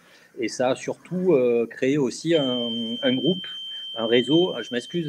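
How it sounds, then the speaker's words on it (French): Electronic alarm sounding in another part of a cinema: a thin, steady high tone rings faintly in the background for several seconds while someone talks over it. "c'est une alarme qui se remet dans une autre partie du cinéma."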